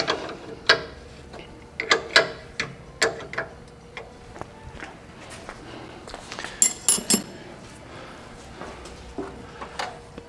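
A ratchet wrench snugs the brake line fittings on a 1965 VW Bus during soft line and master cylinder replacement, producing close, crisp bursts of ratcheting clicks in short irregular runs with brief pauses between strokes.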